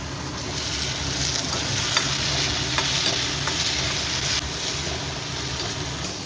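Tomatoes tossed into a pan of sizzling village-style chicken masala gravy with fennel and cardamom, stirred steadily over a loud, continuous fry with scraping spoon strokes.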